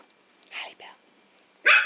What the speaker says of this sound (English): that thing barks? It does, it barks. It is a dog.